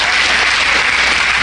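A church congregation applauding during a Spanish-language Holy Week sermon, with dense, steady clapping from many hands filling the space, loud and continuous throughout.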